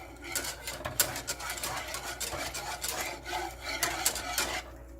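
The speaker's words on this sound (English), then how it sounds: "I'm gonna go ahead and whisk" Wire whisk scraping briskly against a bowl, stirring cornstarch and flour with repeated rasping strokes at an even pace, close and fairly quiet, with no talking.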